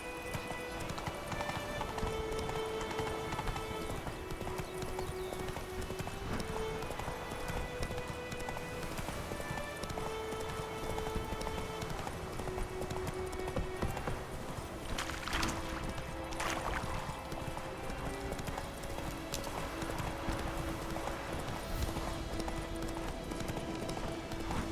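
Roach, a horse in The Witcher 3 video game, runs with a steady, fairly quiet clip-clop of hooves that goes on without a break under game ambience, with no talking.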